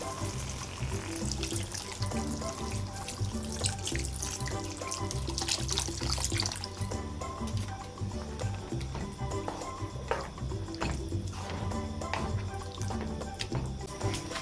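Water poured into a pot of corn and crab soup splashes and trickles, close and moderately quiet, in an irregular stream with small clinks and drips.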